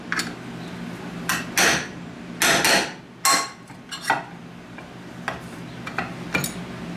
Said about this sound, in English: we're just gonna use a punch and a hammer. Knock them out.